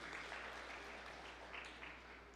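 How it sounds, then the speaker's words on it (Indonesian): A church congregation claps together in a sustained, even wash of applause lasting a couple of seconds, heard at a distance and fairly quiet. "Berikan tepuk tangan yang meriah buat Tuhan."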